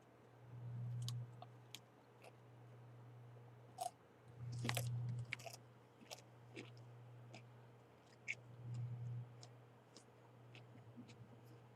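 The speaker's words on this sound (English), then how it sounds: "Sorry for the loud chewing noises." Loud, close chewing and crunching, with a few bursts of heavier mastication over a steady low hum, during a Minecraft reverse-farlands walk session.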